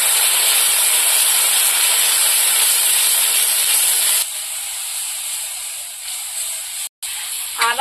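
A spice paste of salt, turmeric and chilli powder hisses loudly in a pan as water hits it, a strong steamy sizzle for about four seconds that then drops to a quieter, steady bubbling with a short scrape near the end.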